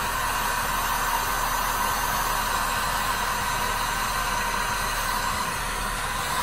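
Heat gun blowing hot air onto a cold spray paint can, a steady, loud, unbroken rushing hiss with a constant motor hum that does not change for the whole stretch.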